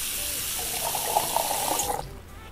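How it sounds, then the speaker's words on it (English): Hot water pouring from a rotated kitchen faucet in the Cooking Simulator video game, a steady close hiss and splash that stops abruptly near the end. "Alright, now let's get some water. Some hot water, please. Rotate faucet."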